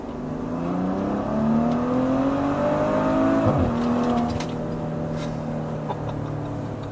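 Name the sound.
Maserati Levante 430 hp SUV accelerating hard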